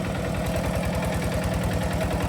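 An old farm tractor engine idles steadily, with a close, rough, low chugging pulse that holds even throughout and no voices.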